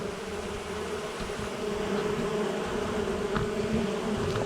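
A swarm of honey bees buzzes in a continuous, fairly soft hum, with occasional individual bees droning a little nearer.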